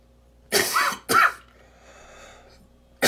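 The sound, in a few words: coughing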